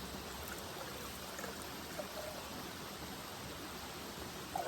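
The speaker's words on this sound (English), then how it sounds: "So I'm going to put in some water." Water being poured into the container of a camping stove at a wooded campsite, a steady close trickle and splash running the whole time with no talk over it.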